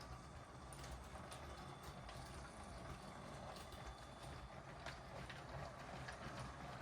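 A LEGO train runs around a layout, with a faint, steady mechanical whir and clicking gear rattle, plus light rhythmic ticks of wheels over track joints.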